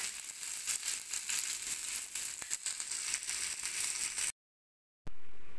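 Onions and green chilies fry in a pan for mutton keema, a steady close sizzle with crackling pops that runs unbroken, drops out briefly, then returns.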